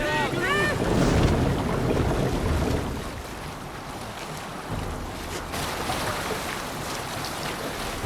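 A Viking sailing ship out at sea in Assassin's Creed Valhalla, with rushing wind and wave wash, loud at the start and then easing to a steadier, lower surge.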